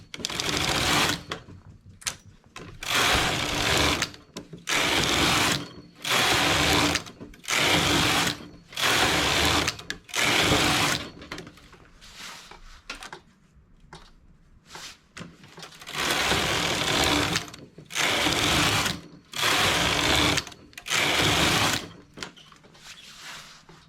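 A domestic knitting machine's carriage is pushed back and forth across the needle bed, giving long repeated whooshing, clattering passes with short pauses between, close and steady with no talking.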